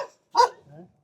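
A dog sitting outside an old-style village house in rural Uttarakhand gives a single short bark, loud and close, followed by a softer low whimpering sound.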